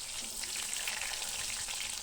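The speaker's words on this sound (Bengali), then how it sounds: "তেলটা ভালো করে গরম হয়ে এলে এখানে আমি আলুগুলো দিয়ে দিচ্ছি" Potato pieces seasoned with salt and turmeric fry in hot oil, a steady close sizzle with dense crackling that holds level and continuous from start to finish, with no voices.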